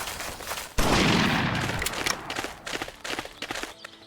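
A powerful hunting rifle fires at a bear in Hunting Unlimited 2010, one sharp loud blast followed by a lingering rumble, with scattered game clatter and footstep-like noises afterward.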